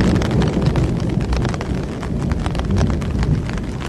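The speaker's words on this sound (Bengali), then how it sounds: "বাহিরে বেশ ঝমঝম বৃষ্টি" Heavy rain pours outside on a stormy night in a Bengali horror cartoon, a loud, dense, continuous roar of downpour with a gusty, rumbling texture throughout.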